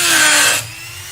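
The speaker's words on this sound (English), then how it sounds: "this is a little carving tool" A small power carving tool, a power chisel, working on a woodturned piece gives a loud, close, harsh buzzing rasp that cuts off abruptly after about half a second, leaving a faint hum.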